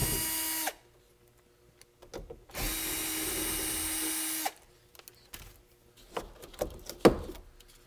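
A power drill backs Phillips screws out of a Honda Ridgeline headliner in two short, close, whirring bursts, followed by faint clicks and handling noises.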